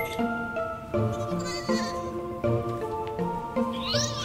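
Sheep bleats from the Kingdom Hearts video game come in short, repeated calls over background game music, with a voice talking briefly now and then.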